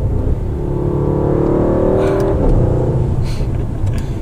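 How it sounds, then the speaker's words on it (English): A 2019 Mercedes-AMG GT 63 4-Door accelerates, heard from inside as a loud exhaust note rising in pitch over about two seconds, then easing back to a lower rumble with brief higher noises. "we'll do a little bit of an acceleration"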